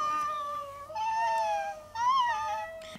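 Pet cats give three long, drawn-out meows one after another, clear and close, each rising and falling in pitch with brief gaps between.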